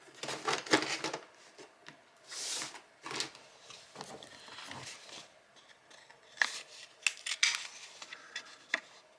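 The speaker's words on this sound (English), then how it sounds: "Well, I need to cut this into a tag shape." Scissors snipping paper into a tag shape at a crafting table, a series of quiet crisp cuts and rustles in short bursts, with small handling noises in between and no talk.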